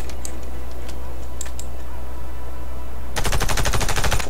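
Rapid automatic gunfire at a target in the Warface shooter game, a fast, loud rattling burst that starts abruptly after a stretch of quiet background noise.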